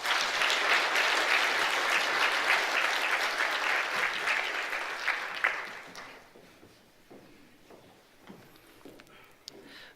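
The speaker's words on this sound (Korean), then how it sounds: "출산 장려금을 주니까 박수로 한번 축하하겠습니다" Church congregation at a Sunday worship service claps in celebration of a childbirth encouragement gift, dense applause that holds for several seconds, then thins into a few scattered claps and faint room sound.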